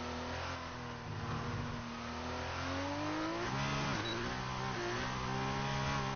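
F1 car engine at full song on a lap of the Belgian circuit in F1 2019, a high screaming whine rising through upshifts with a brief lift mid-run, loud and steady, no voices.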